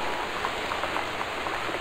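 Steady heavy rain pours in the video game Gone Home, a dense continuous hiss with scattered drop patters, alone and unbroken throughout.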